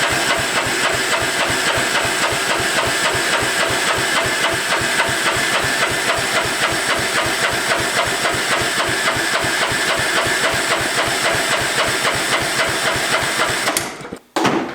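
A small homemade race car engine, not bolted down, runs steadily and loudly with a fast, rattling rhythm and a hissy edge, then cuts out abruptly near the end before a brief burst.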